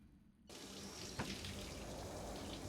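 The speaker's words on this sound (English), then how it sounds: "you hear running water coming from the bathroom. Someone is taking a shower." Steady broadband hiss of running water from a bathroom shower in a point-and-click adventure game, starting abruptly after a brief quiet moment and continuing evenly with one small knock partway through.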